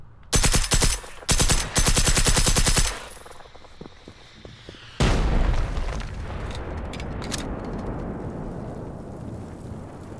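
Loud, rapid automatic gunfire from the game Generation Zero comes in two close bursts and then a long sustained burst, followed by a booming impact and a rumbling, rain-like wash of noise.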